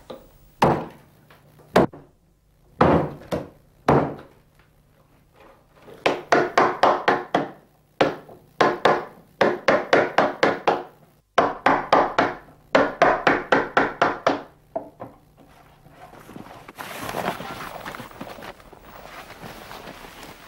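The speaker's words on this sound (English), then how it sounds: "we'll finish this stage of the job with a gouge and mallet" A mallet strikes a gouge hollowing wood for harp making in sharp wooden knocks, first spaced apart, then in rapid bursts, close and loud, ending in softer scraping.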